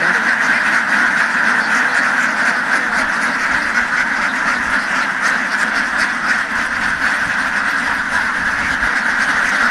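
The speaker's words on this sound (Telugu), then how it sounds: "కొన్ని వందల బాతులు" A large flock of hundreds of ducks by a farm field quacks continuously, a dense, loud chorus of overlapping calls without pause.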